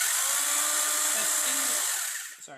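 A high-pitched power drill whines steadily for about two seconds drilling a hole in a hydroponic drip system part, then winds down and stops with a couple of small clicks.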